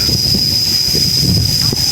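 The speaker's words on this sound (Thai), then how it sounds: "ขึ้นมาลมเย็นว่อยลมพัดคักขนาด" Strong cool wind blows at the entrance of Nang Aen cave in Khammouane, Laos, a loud continuous buffeting rush across the microphone, with a voice faintly beneath it.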